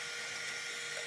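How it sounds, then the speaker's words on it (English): A spot weld drill bores out the welds in an old Lancia car body, giving a faint, steady high-pitched whine with no talking. "This is a spot weld drill."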